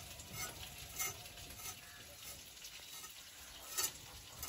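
Fish fries in a pan with a faint, steady sizzle throughout, broken by a few soft stirring or scraping swells.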